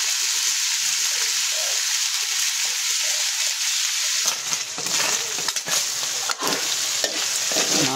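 Shrimp paste and tiny shrimp fry in oil, producing a loud, constant hissing sizzle. Partway through, heavier stirring and scraping noises join in.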